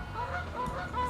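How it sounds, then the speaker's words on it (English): Geese honking near the water at a day carp fishing session, a run of repeated honks close by with some overlapping calls and no talk. "Quite near that geese over there making the song and dance."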